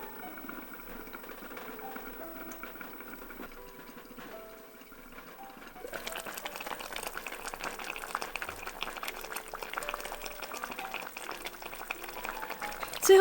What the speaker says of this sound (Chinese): 转小火，盖上锅盖炖煮15分钟